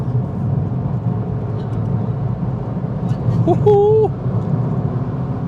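A Suzuki Swift Sport Hybrid 1.4 Booster-Jet driven hard gives a steady engine and road drone heard from inside the cabin, with a man briefly whooping over it near the end.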